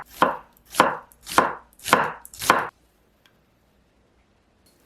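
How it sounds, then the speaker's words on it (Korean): Knife thinly slicing onion on a cutting board, five evenly spaced crisp chopping thuds close up, followed by near silence. "양파는 얇게 채 썰어 주세요"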